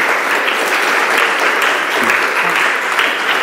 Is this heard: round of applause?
yes